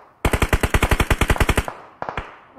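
Rapid automatic gunfire in the mobile battle royale game PUBG Mobile, a single sustained burst of about fifteen sharp, loud shots in even rhythm, followed after a short pause by three quicker rounds.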